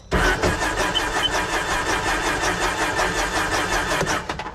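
SeaDoo four-stroke watercraft engine cranking in drown mode with the throttle held, a continuous rapid starter churn close by that stops after a few seconds.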